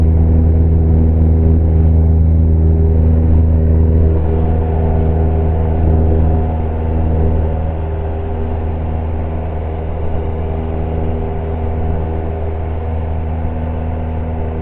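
A CubCrafters Carbon Cub SS light aircraft climbs at full power, its engine a loud steady drone with strong low harmonics that holds for the whole stretch, easing slightly partway through.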